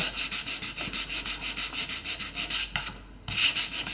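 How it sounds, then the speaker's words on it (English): Sandpaper rubbed by hand in quick, even back-and-forth strokes, cutting through white paint down to bare wood, close and loud, with a short pause near the end before the scrubbing resumes. "I can sand through my white and get down to that brown color that's in the wood"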